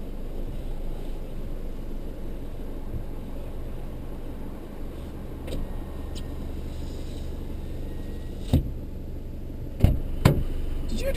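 A Land Rover Defender engine runs with its exhaust giving a steady low rumble that fills the scene at a constant level, with a few sharp knocks near the end.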